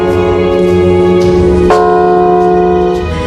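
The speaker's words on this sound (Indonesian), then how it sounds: "ciri khas lain yakni lonceng Emmanuel yang terletak di menara selatan" The great Emmanuel bell in the south tower of Notre Dame cathedral tolls loudly with a deep, sustained metallic hum and a fresh strike midway, rich overtones ringing on close and alone.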